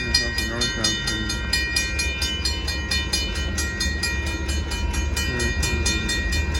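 A northbound Union Pacific gravel train passes at Oltorf Street in Austin, Texas, its loud, steady rumble carrying a rhythmic clatter of wheels over rail joints throughout.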